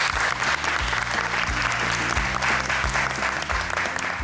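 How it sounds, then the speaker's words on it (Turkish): A studio audience on a Turkish TV cooking competition applauds loudly and steadily, dense clapping running throughout over a low, rhythmic musical backing. "güzel kalplerini de kocaman alkışlıyorum"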